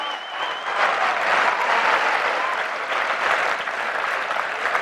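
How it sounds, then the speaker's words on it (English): Thunderous applause from a speedway crowd at a Poole Pirates Elite League meeting, a dense, sustained roar of clapping filling the whole stretch at steady high volume. "Thunderous applause there for Darcy."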